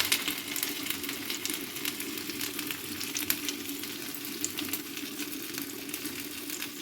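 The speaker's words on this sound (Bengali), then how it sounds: "এবার আমি মটরশুঁটির বাটাটাকে দিয়ে দিচ্ছি" Ground green pea paste frying in oil with ginger and green chilli, a dense, steady, close sizzle and crackle that holds evenly throughout, with no voices.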